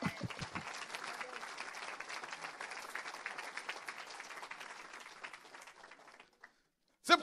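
A church congregation applauds steadily in a large hall, a dense wash of clapping that rises together and keeps up for several seconds before tapering off and cutting to near silence, then a brief clatter at the very end.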